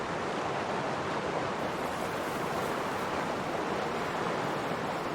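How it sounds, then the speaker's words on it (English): Loud, steady rushing of a waterfall in the video game Heaven's Vault, a dense unbroken roar of falling water filling the whole scene with no break or change. "that's a loud waterfall"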